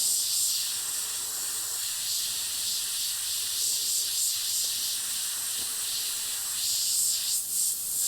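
An airbrush sprays transparent black paint in a steady, close hiss that holds without a break, with slight pulses as the flow shifts.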